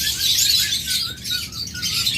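A pair of green opaline pet birds chirps in a dense, bright stream of overlapping tweets, close and fairly loud throughout, with no voices.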